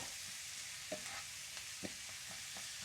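Chopped onion softens in a pan ahead of cabbage in a buttery bacon fried cabbage dish, giving a faint, steady frying hiss with a few soft spatula taps scattered through it.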